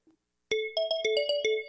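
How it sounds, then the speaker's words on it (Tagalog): A mobile phone sounds a text message alert: after a faint blip comes a rapid series of bright electronic chime tones, loud and close, with no voices. "nag-text yung teacher ni Ana sa akin"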